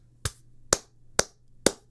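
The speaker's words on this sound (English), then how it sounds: "you get the slow clap" Four single hand claps, slow and evenly spaced about half a second apart, each one crisp and close with a short decay. There is no talk.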